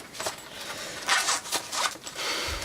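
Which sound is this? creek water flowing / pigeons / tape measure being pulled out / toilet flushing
tape measure being pulled out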